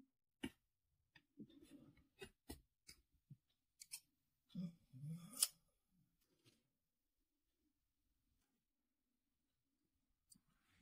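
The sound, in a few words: scissors cutting crochet yarn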